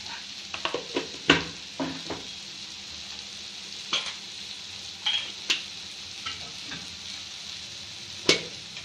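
Spiced samosa filling frying in a pan, a low steady sizzle with intermittent scraping and clinking as it is stirred, close and fairly quiet with no voices.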